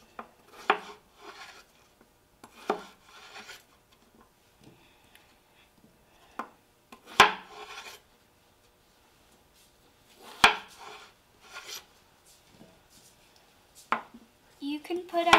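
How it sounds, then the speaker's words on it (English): Kids chop cucumber for a salad, giving sparse, crisp knife taps on a board, a few at a time with quiet gaps between them, while voices talk in between. "It will take a bit to chop though, because there's so much."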